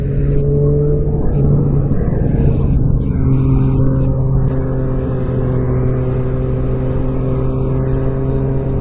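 A Triumph Street Triple 765RS three-cylinder motorcycle engine hums steadily nearby, a smooth low drone with a brief throttle rise early on, no voices.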